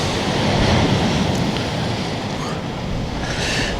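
Waves washing in at Lambra Beach near rocks, a loud, continuous roar of surf with wind rushing across the microphone and a surge building toward the end.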